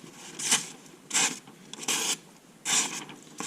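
An Opinel knife with a coarse 325 grit edge slices thin recycled newsprint in four separate close, scratchy rasping strokes, each lasting a fraction of a second, with no talking.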